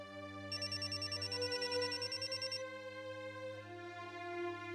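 A phone rings in a domestic scene from a Marathi TV serial, giving a rapid pulsing electronic trill of about two seconds over a steady low hum and background music, then fading as the music carries on.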